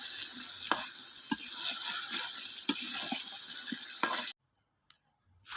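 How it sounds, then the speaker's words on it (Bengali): Chicken meat being stirred and sautéed in a pan for a chicken and potato curry gives a steady close sizzle with sharp scraping clicks. The sizzle stops abruptly near the end, leaving near silence. "গোশটাকে আমি ভালোভাবে চুলায় কষিয়ে নিচ্ছি।"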